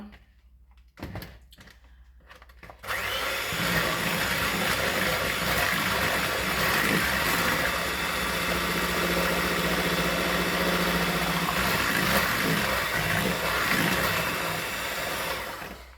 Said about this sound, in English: So I'm using my electric hand mixer.